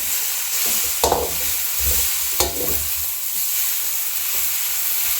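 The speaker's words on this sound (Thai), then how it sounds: "ต้นหอมเนี่ยผัดไม่ต้องนาน คลุกเขาให้โดนความร้อนครับ" Steady loud sizzling from a hot pan stir-frying instant noodles with spring onions, with occasional scraping stirs and utensil knocks, continuous throughout.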